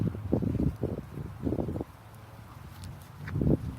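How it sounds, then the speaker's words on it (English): Wind gusts buffet the microphone outdoors in low, rumbling bursts that come and go, with a faint rustle in the background. "you can hear the wind"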